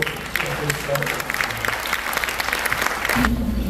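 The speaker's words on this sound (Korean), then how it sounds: "우리 따뜻한 환영의 박수로 시작해주시죠" Welcoming applause from a church conference audience greeting a speaker on disability ministry, steady dense clapping throughout, with a voice speaking over it near the end.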